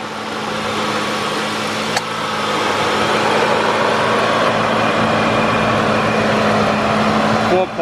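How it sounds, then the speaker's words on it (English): A rust-free 1996 Mercury Cougar XR7 with a modular V8 and 51,000 miles, idling with the air conditioning on, gives a steady, even hum heard up close and unbroken for several seconds. "The engine ran."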